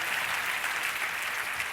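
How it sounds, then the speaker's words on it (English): An audience claps together in sustained, dense applause, loud and even from start to finish with no voices over it. "Let's clap it up for the hustle."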